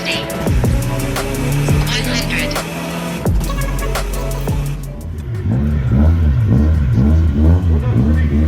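A big-turbo VW TDI drag car makes a boost-only pull down a drag strip without nitrous, its loud diesel engine revving hard through rising gear pulls, close and dominant, with faint voices briefly underneath.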